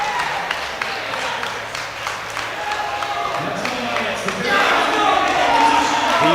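Crowd clapping and cheering at a powerlifting championship, men's 66 kg B group, with scattered claps that swell into a louder roar near the end beneath a commentator's voice.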